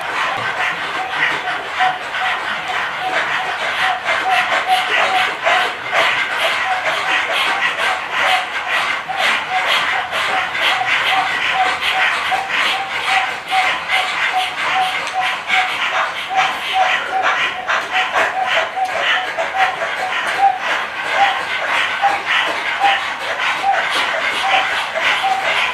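Rapid, rhythmic human panting breath, imitating a panting dog, kept up steadily through a Kundalini yoga class's dog pant breathing exercise, over a faint sustained tone.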